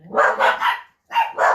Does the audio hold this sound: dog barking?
yes